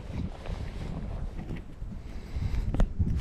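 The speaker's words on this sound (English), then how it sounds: "God, that wind's bad on the other side. You can probably hear the wind." Gusting wind buffets the microphone at a riverside during fly fishing, a rough low rumble that swells and fades, louder toward the end, with no talking.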